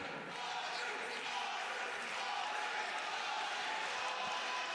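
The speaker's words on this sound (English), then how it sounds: "you can hear the pump from the home crowd for the lad from Jeddah" A home crowd at a sold-out MMA fight in Riyadh gives off a steady, distant roar for a fighter from Jeddah.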